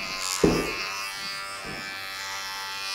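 Low, steady buzz of an electric hair clipper with a guard cutting hair up close, with a couple of brief thuds and bumps as the clipper moves through the hair.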